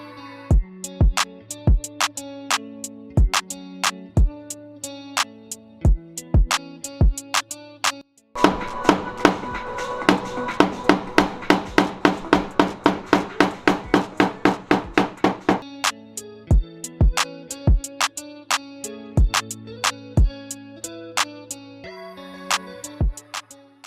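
A hammer strikes a car fender while the fender lip is rolled out on a Honda Civic, sharp metallic taps in irregular bursts, then a long fast run of regular blows, then slower single hits.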